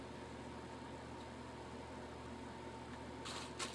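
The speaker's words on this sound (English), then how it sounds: "Hoping you can't hear the air conditioner, because it can get pretty loud." A room air conditioner runs with a faint, steady hum and airy hiss that holds evenly throughout, with no voices over it.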